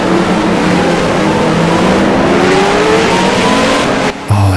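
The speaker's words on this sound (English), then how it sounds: "it looks as though the engine's just cut off" On-board Ferrari Formula One engine of Nigel Mansell during a Grand Prix, a loud continuous roar close to the car that abruptly cuts off near the end.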